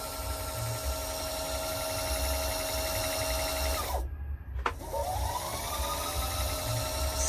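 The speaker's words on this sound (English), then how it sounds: "You can see now the machine is spinning right here." A Pfaff Creative 3.0 sewing machine's bobbin winder spins with a steady, close whirring hum that drops out and winds down, then spins back up again, with no speech.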